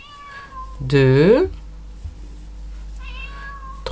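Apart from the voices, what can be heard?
cat meowing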